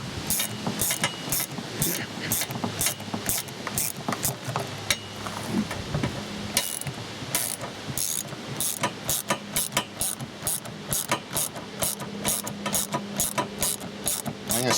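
Ratchet wrench tightening nuts while fitting a cargo box to a 2022 Polaris RZR Trail Premium, a fast continuous run of sharp close clicks repeating steadily throughout.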